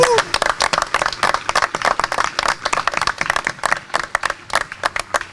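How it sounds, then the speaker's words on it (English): A crowd at a National Bourbon Day event in Bardstown, Kentucky claps steadily, a dense patter of hands that rises and then thins out toward the end. "They deserve a huge round of applause."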